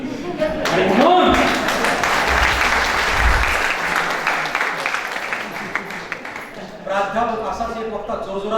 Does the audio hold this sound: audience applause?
yes